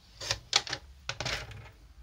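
A paper trimmer (massicot) slices through paper in a few short, crisp cutting strokes and clicks, close and clear, with no talk.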